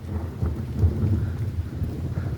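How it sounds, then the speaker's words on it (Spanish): Thunder rumbling during a storm on a hillside pasture with grazing cows, a low continuous rolling boom that swells and fades across the whole stretch without speech. "con truenos y relámpagos y nos va a empezar a llover"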